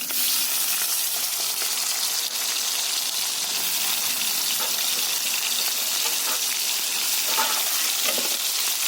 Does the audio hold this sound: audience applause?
no